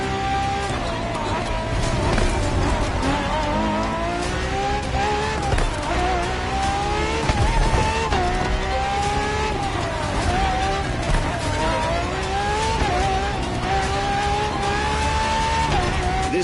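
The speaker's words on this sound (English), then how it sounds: "This car is quite peculiar. Essentially a laboratory-enhanced version of La Ferrari." A Ferrari FXX K supercar in The Crew Motorfest video game roars loudly and continuously, its engine pitch rising and falling through gear changes and bends, with tires squealing along the way.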